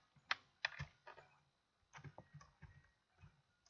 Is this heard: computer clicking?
yes